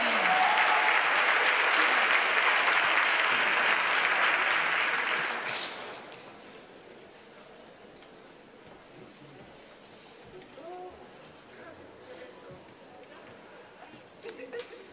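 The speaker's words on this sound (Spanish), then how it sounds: "Fuerte el aplauso para la pareja 696, Camila y Kelvin." Loud sustained applause from a crowd for a couple at the 2024 World Tango Championship stage semifinal, several seconds, then fading into quieter murmuring room noise with scattered sounds.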